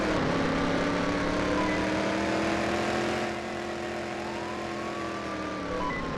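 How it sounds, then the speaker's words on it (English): A yellow sports car speeds through a police video game, its engine note holding steady and loud with faint siren-like tones drifting above it, alone with no talk. "The suspect is escaping in a yellow sports car."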